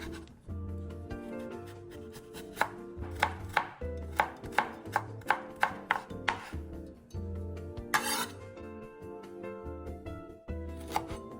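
Knife slicing carrot into thin strips on a cutting board, a run of crisp, evenly spaced chopping taps, close and clear, with pauses between runs and no talk.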